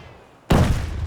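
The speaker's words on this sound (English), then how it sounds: "who's shooting me?" Sudden loud gunfire from the shooter game Escape from Tarkov breaks in after a quiet moment, a heavy burst followed by sustained, dense rumbling shots close by.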